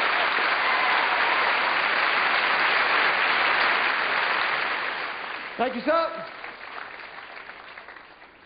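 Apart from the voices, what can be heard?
audience applause for four volunteers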